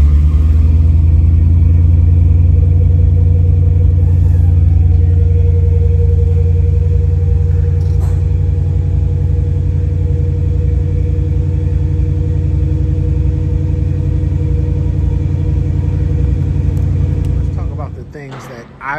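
A 1972 Oldsmobile Cutlass Convertible idles steadily with a deep, even rumble, close and loud, with someone talking over it; the engine sound drops off near the end.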